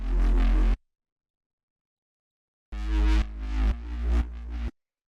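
A deep synth bass plays the root notes of the chords in a sparse, futuristic track: a short heavy note, a gap of silence, then a run of several punchy low notes before stopping.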